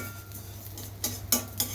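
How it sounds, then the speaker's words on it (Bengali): Rice being fried in a pan with sugar and water, heard as a soft background hiss broken by a few sharp scraping clinks of a spatula against the pan near the end. "এই যে চাউল ভাজতেছে"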